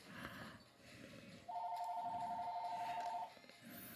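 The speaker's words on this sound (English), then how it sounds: "Sorry for the telephone ringing in the background." A telephone rings faintly in the background of a room, one steady electronic tone lasting under two seconds, with quiet voices around it.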